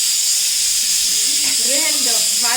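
A kitchen pressure cooker releasing steam in a loud, continuous hiss, with a person speaking beneath it toward the end.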